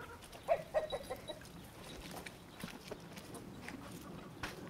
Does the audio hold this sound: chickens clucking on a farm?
yes